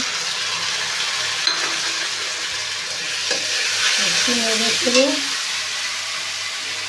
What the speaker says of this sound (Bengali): ওর মধ্যে বাটা পেঁয়াজ আর টমেটো কুচি দিয়ে দিলাম